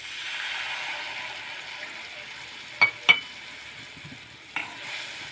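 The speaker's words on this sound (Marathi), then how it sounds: "फोडणी छान खमंग झालेली आहे। याच्यामध्ये थोडंसं अगदी मी पाणी घालत आहे" Water is added to a hot tempering for stuffed capsicum, giving a steady soft hiss of sizzling with a few sharp clicks and knocks of a vessel or spoon, close and without talk.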